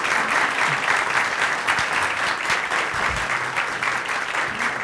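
An audience in a talk-show studio breaks into sustained applause, a dense even roar of clapping that holds steady throughout without pause.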